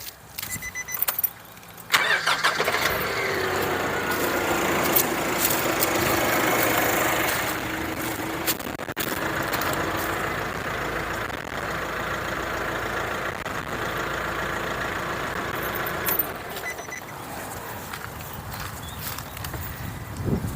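Nissan Navara NP300 engine cranks briefly, then catches and settles into a steady, fairly loud diesel-style idle close by, running on evenly until it drops slightly near the end; no talking.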